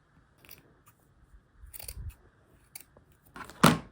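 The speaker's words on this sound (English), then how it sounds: "we're gonna cut this bottom part off, but we're gonna cut 1 centimeter above" Scissors cut through the bottom of a knitted jumper being cropped, giving several crisp snips spaced irregularly and close by, ending with one louder, sharper cut.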